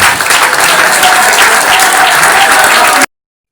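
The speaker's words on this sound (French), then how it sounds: "que je vous demande d'applaudir en guise d'expression" Loud, dense applause from a political gathering honoring President Félix Antoine Tshisekedi Tshilombo at a UDPS commission launch, a steady roar of many hands that runs unbroken for about three seconds and then cuts off abruptly.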